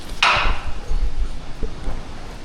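A single sharp knock of a hammer striking wood, followed by faint low thuds and background rumble.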